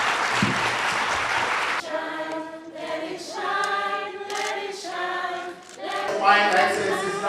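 A short burst of audience clapping at the official opening of an International Public Health Nursing Conference in Kenya, filling the room for under two seconds before giving way to sustained melodic music.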